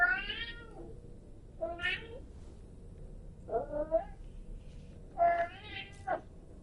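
Four separate meows in a row from a cat in the video game Death Stranding 2, with short pauses between them; clear, close and fairly loud, with a faint low hum underneath.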